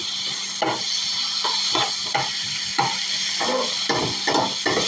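Ingredients for chicken devil sautéing in a pan, a steady sizzle with repeated scraping stirs at an even rhythm, close and fairly loud, with no talking.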